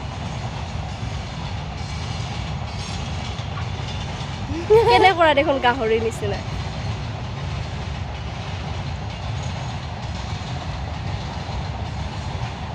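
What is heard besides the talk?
passing train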